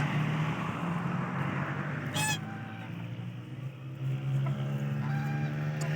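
Waterfowl call in rough, nasal honks over a steady rumble of road traffic outdoors in a Kashmir village, with a sharp vehicle horn blast cutting in briefly partway through.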